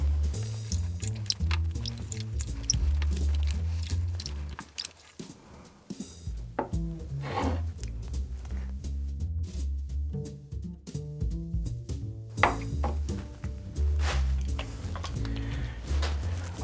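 Limes are pressed in a handheld squeezer for a Christmas margarita, with close squishing and dripping juice plus knocks of the metal tool, repeated in uneven bursts with no talk.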